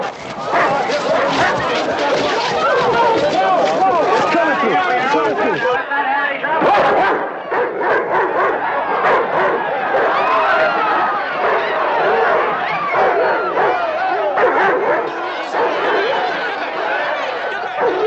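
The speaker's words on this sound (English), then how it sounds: "Get those dogs out of here." Dogs barking amid a busy, noisy crowd scene, with shouting voices and general hubbub running continuously throughout.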